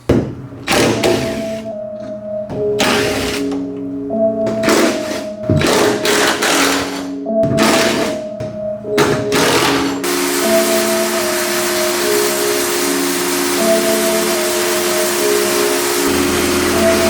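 Rusty truck bumper parts and hooks are sandblasted in loud, hissing bursts of varying length, then one long continuous blast with a steady tonal whine underneath, no speech.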